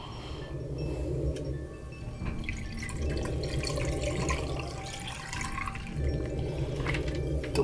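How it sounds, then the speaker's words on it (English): Water poured into a glass during a gaming session, a steady trickling and dripping flow that swells and eases in waves, close and moderately loud, with no talk over it. "Let me just pour some gamer water real quick"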